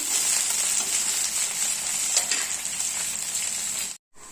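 Onions, curry leaves and three dried red chillies fry in hot oil with a loud, continuous hiss and crackle, broken by faint stirring scrapes before a sudden brief cut near the end.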